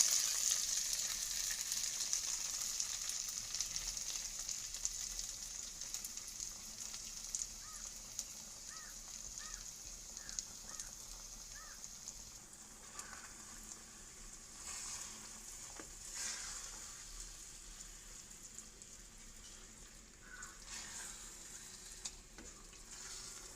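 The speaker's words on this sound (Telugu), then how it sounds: "ఇలా వేగిన వాటిని చక్కెర పొంగల్లోనికి వేసుకోవాలి." Frying ingredients for sweet sugar pongal sizzle steadily and close up, a continuous crackling hiss with occasional stirring clatter, no voices.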